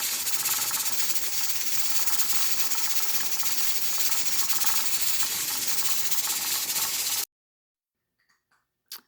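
A pressure canner's jiggler weight hisses steadily while raw chicken is canning, a loud continuous broadband steam hiss that stops abruptly near the end, followed by a few faint clicks.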